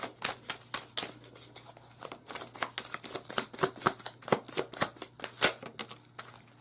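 Tarot cards are shuffled close up in quick, irregular riffling snaps and flutters, a rapid run of crisp papery clicks with no speech.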